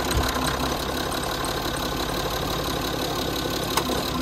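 A Citroën C6 engine running at a steady idle, a continuous close mechanical rumble and hum with little change in level throughout and no voices.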